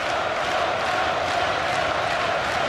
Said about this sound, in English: The crowd trying to raise the Welsh champion.